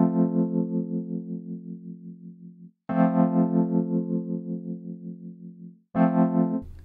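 A Waves electric piano run through an auto pan effect, with three long sustained chords that swell with a pulsing wobble as they decay. Each new chord starts sharply after a short silence.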